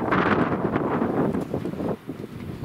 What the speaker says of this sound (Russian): Блин, ветер какой.